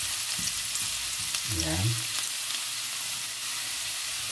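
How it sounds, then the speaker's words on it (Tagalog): Ginger sautés in a hot pan with a steady, broadband sizzle throughout, briefly overlaid by a short spoken word in the middle. "Igasahin lang po natin yung ating luya."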